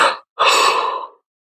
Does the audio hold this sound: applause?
no